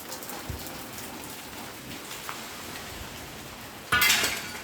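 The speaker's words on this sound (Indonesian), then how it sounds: "Ini cuaca sedang hujan." Steady rain patters and hisses on surfaces, with a brief louder splash or clatter near the end.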